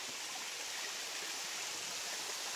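Spring water flows steadily above Panda Park, a continuous broadband rushing like a small stream or waterfall, close and unbroken with no voices.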